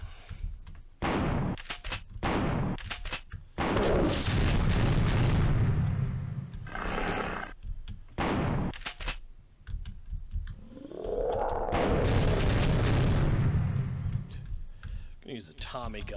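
Gun blasts in the video game Killing Time, a series of loud bursts in uneven bursts and long booming stretches, with someone talking between them.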